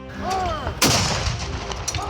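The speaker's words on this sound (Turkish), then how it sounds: "Hemen tepeyi top ateşine tutmaları için tayfalarına emir vermiş." Ship's cannons firing at a hill, a sharp loud boom that rolls out into a long rumbling decay, with a fainter shot near the start and faint tonal sounds around it.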